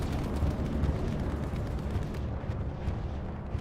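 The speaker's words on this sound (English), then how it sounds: "Bombing run going up over the point as well." Bombing run explosions rumbling over a capture point in a Drielse-map World War II shooter game, a dense, continuous low roar of blasts throughout, loud and close, with no talk over it.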